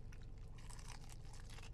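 Teeth bite into crispy fried chicken with a close, crackly crunch, followed by a few quick chewing crunches in a quiet room.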